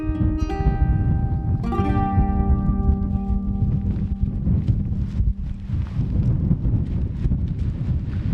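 Strong wind on a hilltop in Spain buffets the microphone, a loud continuous low roar and rumble that fills the whole stretch without a break.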